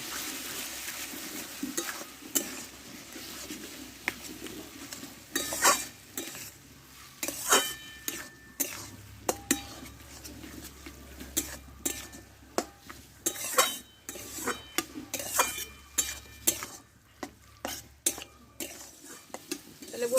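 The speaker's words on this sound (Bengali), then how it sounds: "আর এখানে আমি দেবো হাফ চামচ মতো গরম মশলার গুঁড়ো এই সবগুলো একসঙ্গে করে দেবো একটু নাড়া চাড়া করে দেবো" Stirring fish head curry with garam masala in a pan, a spoon scraping and clinking against metal in irregular bursts over a quiet background sizzle.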